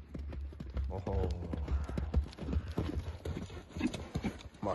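A Don-Budyonny horse running, its hooves clip-clopping in a quick steady rhythm close by, with someone talking over the hoofbeats throughout.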